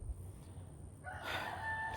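On a homestead, a faint quiet stretch gives way to chickens and a rooster; a crowing call rises partway through, with soft clucking and bird sounds underneath, fairly distant and low in level.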